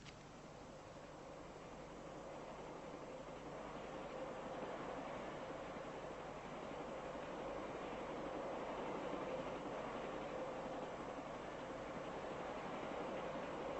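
A train rumbles steadily past at a distance, a continuous broad roar that swells gradually and holds, with no voices.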